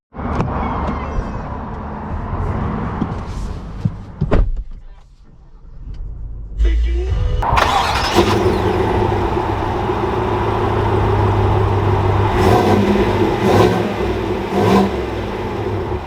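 A 2021 Chevy Tahoe High Country runs with a steady engine rumble, falling quiet mid-clip before the engine fires up again and holds a loud, sustained drone as the SUV pulls away, with a few brief voice sounds over it.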